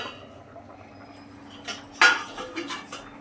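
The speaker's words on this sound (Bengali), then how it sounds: "ঢাকনাটা আমি তুলে নেব।" A metal lid is lifted off a pot of simmering potato and cauliflower curry, giving a sharp clank and a few lighter clinks of cookware against a quiet kitchen background.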